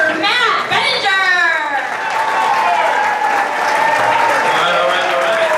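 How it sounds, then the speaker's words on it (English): A comedy-club audience at an improv night applauds a comedian, with loud, continuous clapping mixed with whoops and cheering voices close by. "Big round of applause for Matt Benninger."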